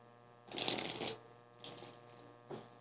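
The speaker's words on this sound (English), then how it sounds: "One last shuffle." Tarot cards being shuffled in three quick riffling bursts, the first longest, over a faint steady hum in a quiet room.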